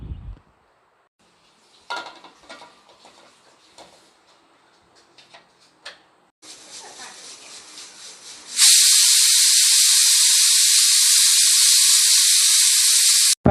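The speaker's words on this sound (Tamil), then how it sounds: "பாருங்கள், 2 விசில் வந்துருச்சு." A pressure cooker cooking chicken biryani lets out a loud, sustained high whistle of escaping steam near the end, after quieter kitchen clatter and hissing.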